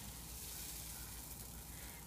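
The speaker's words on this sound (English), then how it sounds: "You'll hear it sizzle if your pan's hot enough." A soft, steady sizzle hisses continuously, like batter frying in a hot pan, close and fairly quiet with no talking.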